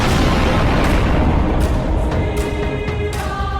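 Grenade blast during military training, a loud, dense rumbling roar that fills the whole stretch with steady low-end boom and scattered crackling, close and without talk.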